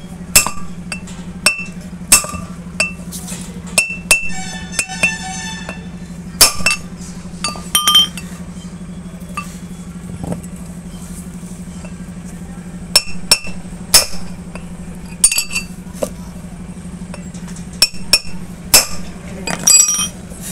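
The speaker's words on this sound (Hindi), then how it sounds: "इससे माध्यम से इसको ठोक देना है" Sharp metallic hammer strikes seat a wheel hub bearing on a Maruti Wagon R, coming in irregular bursts of clinks and bangs with some quick rattling runs, over a steady low workshop hum.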